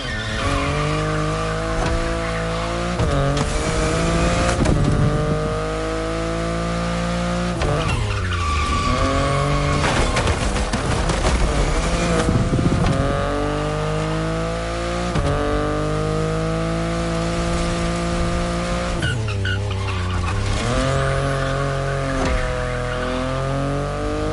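A BMW i8 sports car driven in a video game, its engine droning loudly and steadily with repeated rising and falling revs and sustained tire squeal through hard cornering.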